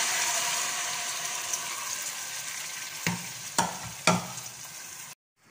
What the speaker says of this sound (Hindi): अब इसको मिक्स करेंगे।